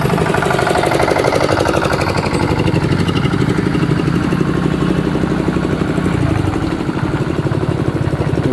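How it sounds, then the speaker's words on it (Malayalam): A fishing boat engine runs in the harbour at Colachal beach, making a loud, steady, rapid knocking chug that continues throughout with no talking. "മീൻ പിടിക്കാൻ പോകുന്ന ബോട്ട്."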